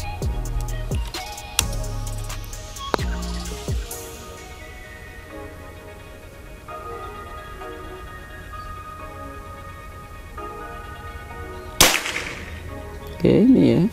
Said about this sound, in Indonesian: Tembakan keempat.